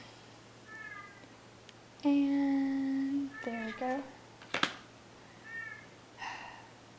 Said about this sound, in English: My brother's cat is crying.